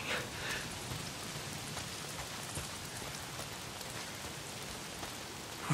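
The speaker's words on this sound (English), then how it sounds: "Why is it always raining?" Steady rain in the game Days Gone pours down in a dense, even hiss, with scattered drops pattering close by and no voices throughout.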